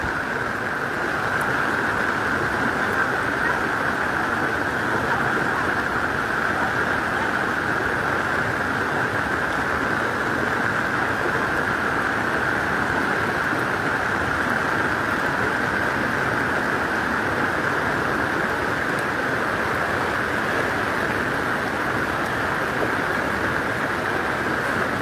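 Heavy rain pours during a flash flood in North Leyato, Gorontalo City, a loud unbroken roar of water with a steady hiss that stays constant throughout.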